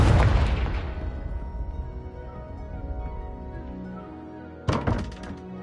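A Confringo spell explodes in Hogwarts Legacy, a loud booming thump that rings and decays over several seconds, followed near the end by a second sharper burst of impact noise.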